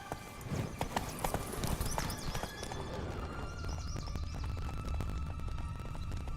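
Roach, Geralt's horse in The Witcher 3: Blood and Wine, gallops in a steady rapid clip-clop of hooves, loud and close, over a low ambient hum with faint game sounds.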